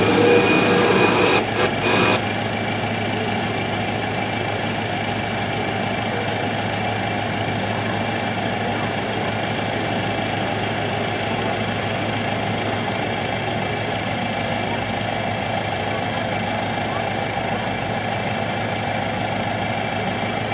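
Type 16 maneuver combat vehicle, a wheeled armored vehicle, at a military anniversary demonstration, its engine idling in a steady, loud mechanical drone with a faint whine, a brief clatter at the start.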